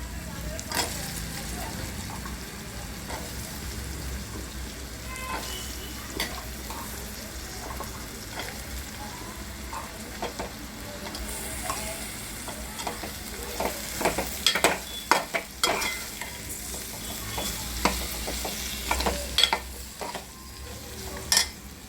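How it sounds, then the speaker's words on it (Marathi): Masala and potatoes frying in a pan for a capsicum and potato curry, a low steady sizzle with frequent utensil clinks and scrapes from stirring, growing busier toward the end, with a voice talking at times. "हे जरा थोडं भाजू द्या"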